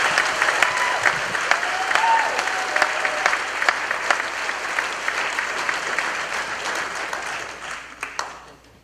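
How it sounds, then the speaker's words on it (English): Sustained audience applause fills a candlelight vigil hall, a dense wash of many hands that holds steady for most of its length, with a faint voice or two underneath, then thins out toward the end. "One more round of applause."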